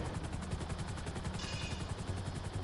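A video game helicopter gives a loud, steady rotor thump that pulses evenly throughout, with a brief brighter burst in the middle of the clip.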